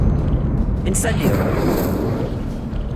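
An Incendio fire spell from the Hogwarts Legacy video game bursts with a loud whooshing roar and crackle around the one-second mark, over a steady rumbling game soundtrack.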